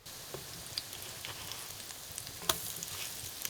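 Oil crackles and sizzles steadily in a pan as pumpkin fritters fry, with small sharp pops scattered throughout and no talking.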